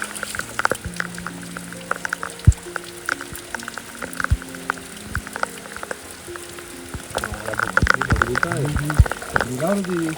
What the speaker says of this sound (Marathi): पावसाची मोठी सरक आली